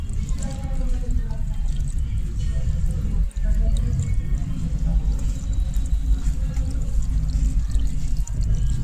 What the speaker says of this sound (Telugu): చూడండి డ్రైన్ చేస్తే ఎలా వస్తుందో వాటర్